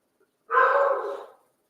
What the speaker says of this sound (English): The dogs have started barking upstairs.